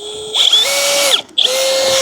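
Power drill pre-drilling a hole while installing solar post cap fence lights outdoors, two close, loud whining bursts that ramp up and hold, separated by a short pause.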